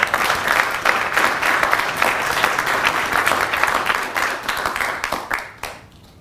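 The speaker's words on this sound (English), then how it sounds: "please join me in a round of applause for the company staff of Company C." A large audience applauds at a military company graduation ceremony, loud continuous clapping that fills the space for several seconds before tapering off at the end.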